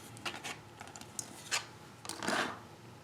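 Scissors trimming off excess paper or craft material for a vintage Santa holiday card, heard as a few short, close snipping and rasping cuts, with a longer, louder cut near the end.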